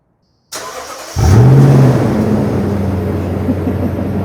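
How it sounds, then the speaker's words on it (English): A Lexus GX with a muffler-delete exhaust fires up by remote start: a click and brief crank, then the engine catches with a loud rising flare before settling into a steady, deep idle rumble up close. "I'm gonna do the remote start."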